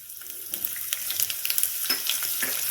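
Mustard seeds and finely chopped green chili sizzle and crackle steadily in hot oil, with small sharp pops scattered over a continuous hiss.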